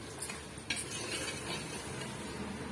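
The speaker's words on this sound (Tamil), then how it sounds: "நம்ம எண்ணெயிலே வந்து இந்த மிளகாய் தூள் மல்லித்தூள் எல்லாம் சேர்த்து நம்ம வதக்கிறோம்" Chili powder and coriander powder sautéed in oil for tomato rice: a couple of sharp utensil scrapes against the pan over a steady close sizzle, with no voices.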